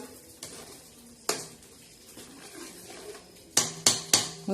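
Metal utensil scrapes and clanks against a pot of chicken curry in irregular strokes, with a quick cluster of sharp knocks near the end over a faint simmer.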